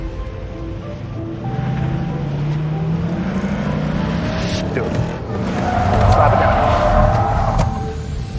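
A car whips around in a quick two-point turn during Secret Service Academy driving training, with engine noise and a brief tire squeal under an instructor's voice talking throughout.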